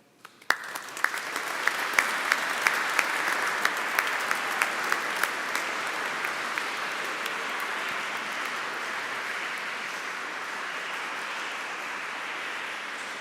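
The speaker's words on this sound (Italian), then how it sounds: "mi sembra che alcuni applausi siano venuti da quella parte" Congregation applauding inside a cathedral during the Chrism Mass, sharp onset settling into sustained, reverberant clapping that holds evenly loud and slowly thins out, with a few distinct claps standing out early.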